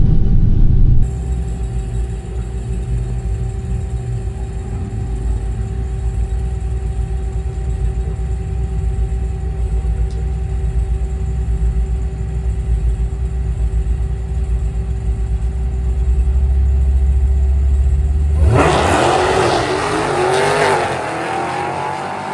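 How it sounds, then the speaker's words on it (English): A Dodge Demon 170 at a drag strip holds a steady, loud engine drone, then at launch bursts into a roaring, sweeping surge of acceleration that stays strong until the end. "Demon 170 right in front of us, Terry's car."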